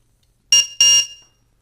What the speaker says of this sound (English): it'll beep every time you push the set button